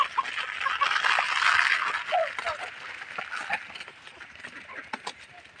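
Backyard chickens let out to feed during the day, a busy mix of clucks and squawky calls from several birds, moderately close and continuous, gradually thinning out.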